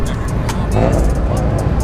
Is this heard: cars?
yes